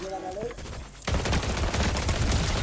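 Rapid bursts of gunfire rattle in a battle royale building video game, starting after a brief quiet stretch and then going on densely and loudly to the end, with a player's voice talking over the shots.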